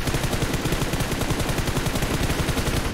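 Rapid automatic gunfire from the mobile battle royale game PUBG Mobile, a loud, dense stream of closely spaced shots sounding continuously throughout with no talking over it.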